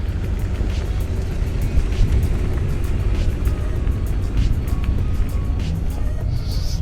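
A Porsche GT4 runs hard at an autocross event, a steady loud engine roar with broadband rush that holds throughout, fairly close with outdoor ambience.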